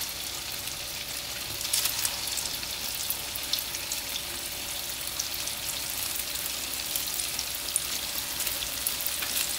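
Cassava cakes, some with dried shrimp, fry in hot oil over moderate heat, giving a steady close sizzle with small crackling pops and no talking.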